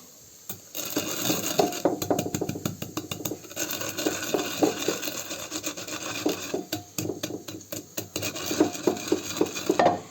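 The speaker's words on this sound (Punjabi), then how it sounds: "ਆ ਮੈਂ ਅੱਧਾ ਕ ਚਮਚ ਮੋਟਾ ਧਨੀਆ ਪਾਇਆ ਹੋਇਆ ਇਹਨਾਂ ਨੂੰ ਆਪਾਂ ਕੁੱਟਦੇ ਆ" Coarse coriander seeds being pounded with a pestle while making spiced potato filling for tandoori kulcha, giving rapid, close-up rubbing and knocking strikes in irregular bursts throughout.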